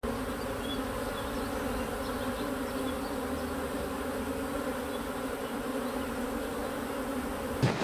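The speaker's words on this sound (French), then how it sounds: "Il y a pas mal d'abeilles à l'intérieur." Honey bees buzz steadily around a small hive in an April apiary, a dense, continuous close-up hum with individual bees droning past, no voices.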